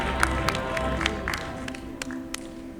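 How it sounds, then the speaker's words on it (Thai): Audience claps with scattered hands at a charity concert with a Thai fabric fashion show finale. The applause is moderate and uneven, fading over a few seconds, and a voice is audible beneath the sustained background tones. "ขอเสียงปรบมือให้ทุกท่านอีกสักครั้งหนึ่ง"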